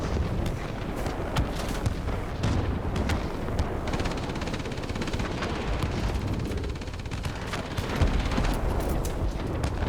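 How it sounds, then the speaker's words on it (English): Bombs bursting continuously during a World of Warplanes sortie in an A26-B bomber, a dense rumbling barrage of blasts and crackling detonations with no pauses, loud and sustained throughout. "bombs going off everywhere"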